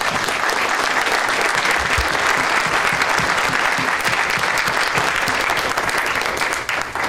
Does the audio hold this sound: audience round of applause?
yes